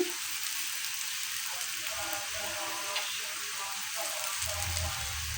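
Onion frying in a pan, a continuous even sizzle and crackle close up, with no talking over it.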